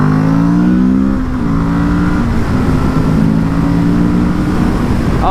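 A 2019 Kawasaki Z650 motorcycle engine pulls hard under throttle, a loud close droning whose pitch climbs in stages between gear changes over constant wind rush, with no speech.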